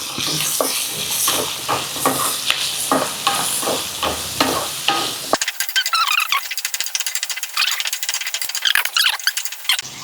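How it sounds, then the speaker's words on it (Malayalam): Chopped tomatoes sautéing in a pan for Kerala-style ulli sambar, a spatula scraping in regular strokes over soft sizzling, then brighter crackling frying with sharp clicks. "നന്നായിട്ടൊന്ന് വഴറ്റാം"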